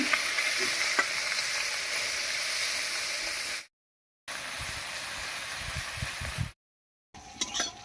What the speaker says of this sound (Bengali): এই কটা মাছ ভাজা হয়ে গেছে নামিয়ে নিচ্ছি